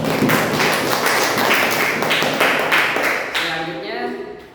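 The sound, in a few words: applause for a student group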